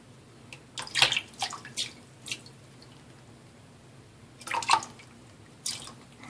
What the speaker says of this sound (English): Literally hand lathering.